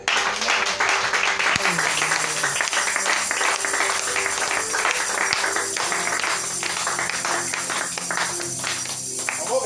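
A church congregation applauding, with steady sustained clapping filling the space at moderate loudness, accompanied by music and voices throughout.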